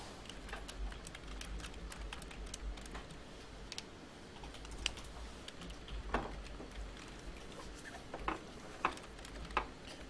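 A computer keyboard clacks steadily as code is typed, with quick irregular keystrokes at close range and a few sharper taps near the end.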